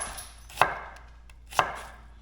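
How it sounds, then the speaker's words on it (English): Two crisp knife strokes through an onion on a cutting board, about a second apart, each a sharp close thud against quiet background; no voices. "I'm gonna cut 1 in half, and I'm only gonna use the half. And I'm gonna do nice, thin julienne."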